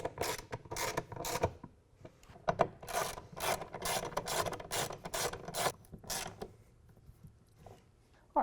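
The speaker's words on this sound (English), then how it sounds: "To tighten these bolts back down, we're going to use a ratchet rather than the impact driver" Hand ratchet tightening the bolts of a GatorTrax tonneau cover on a 2016 Toyota Tacoma, heard as a run of quick, close rasping clicks in bursts of short strokes that fade toward the end, with no talk.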